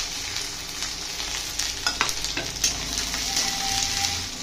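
Green chilies and onions sizzle in hot oil as they are stirred, a continuous bubbling hiss punctuated by clattering scrapes of the spoon against the pan, close and fairly loud with no talking.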